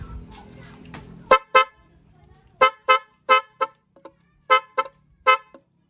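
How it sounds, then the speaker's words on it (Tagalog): A motorcycle horn sounds in a series of short, sharp beeps, mostly in pairs, loud and close, after a brief low rumble at the start. "Testing natin yung busina kung okay na siya ha"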